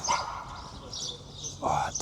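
A dog barks nearby on a hot day, with two or three short yips set against light background noise.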